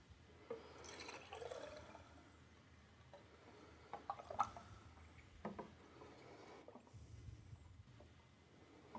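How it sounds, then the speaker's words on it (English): Lab sample bottles filled and capped fully submerged in water give faint, soft splashing, gurgling and bubbling, with small drips and clinks throughout. "It's important when filling each of the bottles to cap the bottle fully submerged to make sure there are no air"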